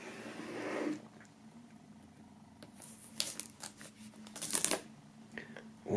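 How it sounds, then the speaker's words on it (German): Plastic shrink film being peeled off a square vinyl box: quiet crinkling and tearing rustles come in short bursts, a brief scrape at the start and louder crackles near the end, close up with no talk. "die Folie abmachen."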